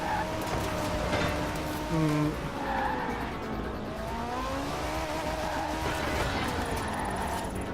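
Car sliding and skidding in the Forza racing video game, played on a Thrustmaster Ferrari 458 Italia wheel, with sustained engine drone and wavering tire squeal, a louder squeal near the middle, and a voice talking over it.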